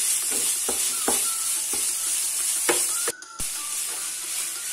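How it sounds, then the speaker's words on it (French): Minced meat sizzles in a pan as it cooks down for spinach and meat bricks, a steady bright hiss punctuated by several sharp utensil taps and stirs, with a brief dip in the sizzle near the end. "donc j'incorpore la viande hachée. Je laisse mijoter, donc tout doucement, tout va cuire ensemble."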